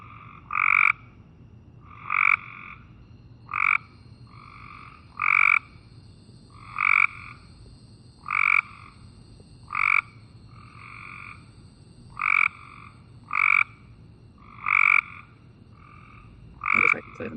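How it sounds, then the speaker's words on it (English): Recorded calls of a Cope's gray tree frog: a run of about eleven short, harsh trilling bursts repeated every second or so at an even rhythm, loud and close, with no other sounds. "let's listen to the Cope's gray tree frog here"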